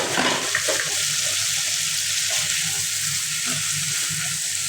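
Marinated sauce poured into a pan of frying sausage, giving a steady, dense sizzle with a wet, bubbling hiss that holds close and even throughout.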